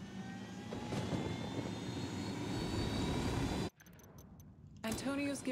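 A helicopter in the video game Ghost Recon Wildlands, on a mission in Bolivia, gives a loud, steady engine roar that cuts out abruptly partway through, then resumes while voices talk.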